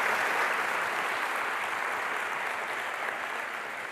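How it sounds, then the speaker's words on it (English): A conference crowd at the World Government Summit applauds steadily, dense clapping filling the whole stretch and tapering slightly toward the end. "Let's give a nice warm round of applause, Ambassador Gobash and Sheikh Lubna Al-Qasim"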